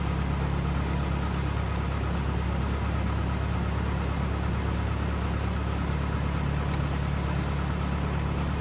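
A Cessna 172 engine idling at 1,000 RPM on the ground in the Prepar3D flight simulator holds a steady, unbroken low drone throughout, even and continuous with no voices.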